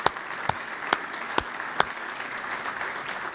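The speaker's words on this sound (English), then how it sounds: "Let's give all of our sponsors a round of applause and thank them." A few people clap sparsely at a policy breakfast event, thanking sponsors: a handful of distinct, fairly quiet claps spaced about half a second apart over a soft room hum, with no one speaking.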